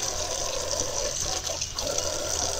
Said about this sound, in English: We got some warm water.